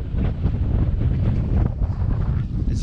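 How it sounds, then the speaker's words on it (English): Strong wind buffets the microphone beside a muddy creek outlet on the coast, a constant rumbling roar with gusty flutter throughout; loud and close, no one speaking. "As you can see, today's quite windy."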